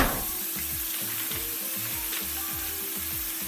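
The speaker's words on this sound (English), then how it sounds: "Get you a cast iron skillet or fry pan nice and hot, and start to cook off your chorizo." Chorizo frying in a hot cast iron skillet gives a steady close sizzle, with repeated rhythmic low scraping or clicking as the meat is worked in the pan, no talk.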